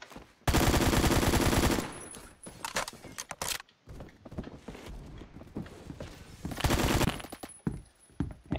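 Automatic gunfire in Phantom Forces, two loud sustained bursts of rapid shots at the start and near the end, with shorter scattered shots and clatter between them.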